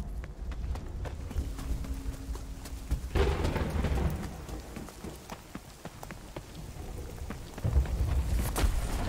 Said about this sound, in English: But these lightning strikes, I'm not sure exactly how much damage they do to you.